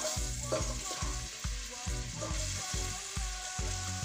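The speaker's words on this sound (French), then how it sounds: "c'est maintenant, tout de suite, qu'on va mettre et les oignons et la viande" Onions and meat frying in a pan for a Portuguese stew, with a steady close sizzle, repeated stirring or scraping knocks, and no talking.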